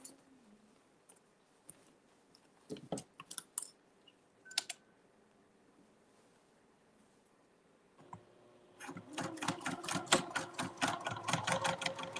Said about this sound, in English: you're going to sew 1/4 of an inch across there